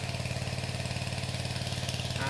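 Valu 7.0 HP water pump engine running steadily at low throttle, a close, even idle-like chug with a regular rhythm throughout, with no speech.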